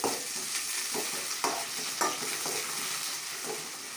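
Green chili slivers, curry leaves and mint are stirred in a hot oiled pan for a bachelor-style chicken curry, a steady sizzle broken by several scraping spoon strokes, close and alone without voices.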